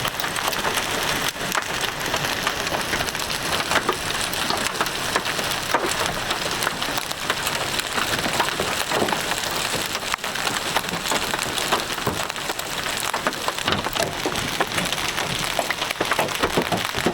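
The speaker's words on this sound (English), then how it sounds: "Here comes the hail core." Hail pelts down steadily through a hailstorm, a dense, loud, continuous rattle of hard impacts that hardly changes in strength and has no talk over it.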